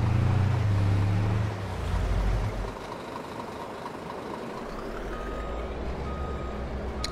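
A Kamaz truck reversing in Farming Simulator 22, with a steady diesel engine drone and a loud low rumble at the start, then a thin, repeating reverse beep over the continuous engine noise.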